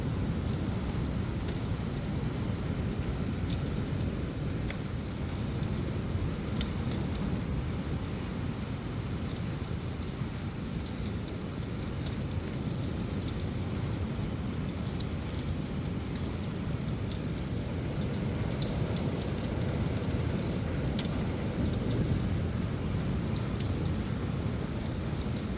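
Heavy late-season monsoon rain pours down in a dense, constant roar with low rumbling thunder beneath, steady and loud for the whole stretch with no voices.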